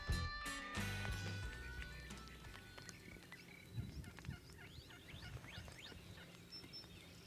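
Wild turkeys roosting on power lines at daybreak, gobbling faintly from a distance among other birdsong in a quiet outdoor setting, after a brief louder rustle at the start.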